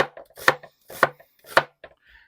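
Knife slicing onion into half-rings on a board, three crisp, evenly spaced cuts with softer handling taps between, close and clear.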